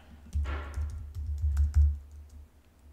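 Keys tapped on a computer keyboard while entering a code on a timeshare exchange site, a quick run of close, fairly loud clicks and thumps in irregular bursts with no talk.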